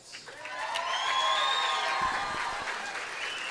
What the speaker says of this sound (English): how about a nice round of applause for our 2 finalists?